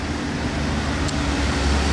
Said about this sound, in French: on a un beau Lamborghini Urus qui rentre dans Monaco